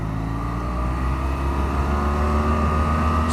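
BMW F800GT motorcycle accelerating hard to overtake a lorry on the road, a steady loud engine drone with rising pitch and constant wind rush, heard from onboard.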